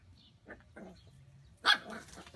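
A mother dog gives a few soft, close yips and whimpers, then one sharper, louder bark near the end, with quiet pauses between.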